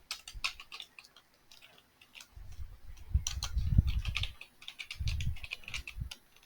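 Rapid clicking keystrokes on a computer keyboard while code is typed, close and steady with uneven bursts, under a low rumbling background noise and no talk.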